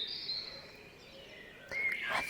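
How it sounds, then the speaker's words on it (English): Birds sing in a spring dawn chorus, with thin high chirps and trills, quiet and somewhat distant, and a brighter call near the end. "chance to truly identify that there are different bird songs out there"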